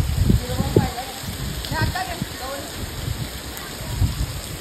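A waterfall roars and splashes in the background as several people talk nearby, at Tringalwadi Fort near Igatpuri, Nashik.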